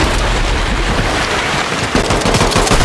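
Dense, loud video game gunfire, a continuous crackling barrage of rapid shots that fills the whole stretch without pause.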